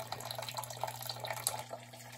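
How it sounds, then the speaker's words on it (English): Steady trickling and splashing of the last gallons of water draining from a gas water heater tank, with a constant low hum running underneath. "I'm just draining out the last couple gallons of water that I have inside of this thing."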